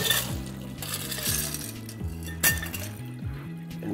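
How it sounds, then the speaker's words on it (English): Ice cubes drop into a Collins glass and clink close by in a quick run of bright glassy knocks, with one sharper hit partway through. "Add ice to the Collins glass."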